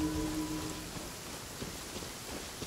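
Rain falling in the video game Genshin Impact, a steady soft hiss of rainfall with scattered drop patter, following a brief tonal game sound at the start.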